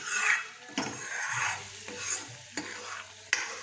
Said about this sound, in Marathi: सगळं मसाला हलवून घेतला का? हलवून घे.